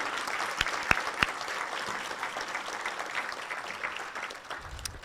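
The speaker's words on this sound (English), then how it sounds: "Round of applause for all of the folks who made this possible." Steady applause from an audience at a college celebration in a convention center, continuous clapping at moderate distance with a few sharper individual claps standing out.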